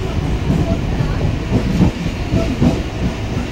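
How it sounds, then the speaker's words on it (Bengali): A local passenger train pulls in and runs on the rails near Ichhapur station, a close, steady rumble with faint clattering wheel beats that continues throughout. "তো এই যে দেখো, আমার ট্রেন চলে এসেছে। আমি ট্রেন উঠে পড়েছি।"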